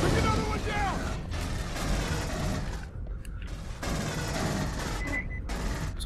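Dense, sustained gunfire from a firefight in Aliens: Colonial Marines, loud and close, with rapid bursts rolling almost continuously and a couple of brief lulls.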